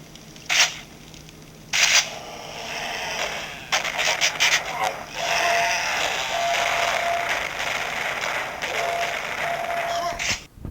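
Quake 1 plays on a Toshiba Libretto 50CT laptop through its sound card, giving bursts of gunfire-like blasts, clicks and rumbling game effects that start and stop irregularly at moderate volume, with no talking.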